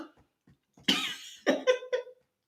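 A person coughs in a short burst: a few soft throat sounds, then one loud harsh cough followed by three quick smaller coughs, close to the listener.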